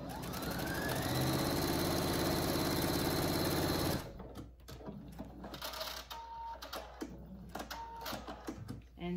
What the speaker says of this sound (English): And then I'm going to stitch over. And then I'm going to sew back up the seam.